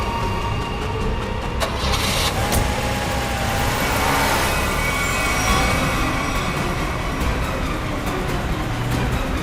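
A car starts and drives off, giving a loud, continuous broadband engine and road roar that holds steady throughout.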